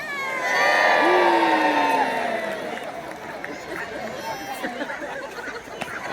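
Outdoor crowd at a naval gun battle show in Peasholm Park, Scarborough, cheering loudly with children's shrill shouts and whoops, swelling early then settling into a lively murmur.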